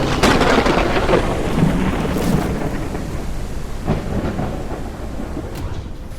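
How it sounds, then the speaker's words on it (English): Violent thunderstorm in the game Forever Skies: heavy rain hissing steadily with deep rolling thunder rumbles, loud and close, no voices. "Maybe it's me, but that storm sounds a bit violent."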